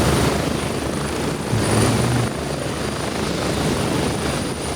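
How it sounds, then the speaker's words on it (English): Helicopter arriving in the video game Grey Zone Warfare, a steady, loud rotor and engine roar that holds throughout with a slight swell midway and no talking. "Fast forward to get through until the chopper arrives."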